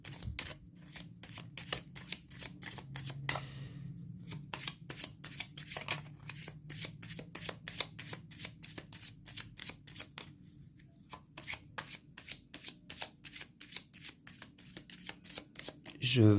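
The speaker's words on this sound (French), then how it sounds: "Je vais remélanger la défausse" A deck of playing cards is shuffled again and again during a solo game of the Cyberion card game, giving crisp rapid riffles and clicking bursts with short pauses, while a voice talks quietly in between.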